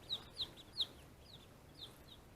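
Ducklings kept in a brooder box peep in short, high, bright calls, a handful of separate chirps spaced through a couple of seconds, faint and close against a quiet low hum.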